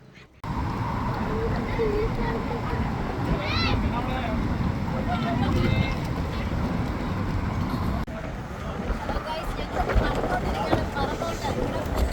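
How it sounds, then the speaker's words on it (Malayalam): Strong wind roars and buffets the microphone with a constant heavy rumble, while a voice is faintly heard beneath it, outdoors in Kalba. "നമ്മൾ നാട്ടിൽ ഈ രാമക്കൽമേട്ടിലൊക്കെ പോയി നിൽക്കുന്നതിനേക്കാളും ഭയങ്കര കാറ്റ്"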